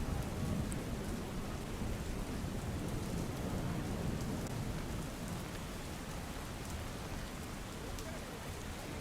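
Heavy monsoon rain falling in Bhiwandi near Mumbai, a steady dense hiss of downpour with low rumbling undertone, continuous and fairly loud throughout.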